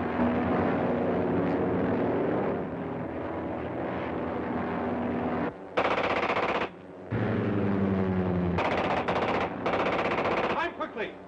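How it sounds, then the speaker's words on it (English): Long bursts of rapid machine-gun fire rattle almost continuously, broken by brief gaps and a few short final volleys, with aircraft engine drone underneath. "Get out of the range of that machine gun."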